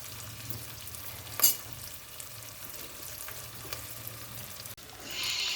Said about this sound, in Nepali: भुट्छौँ र यसलाई धेरै एकदमै ब्राउन हुन दिँदैनौँ है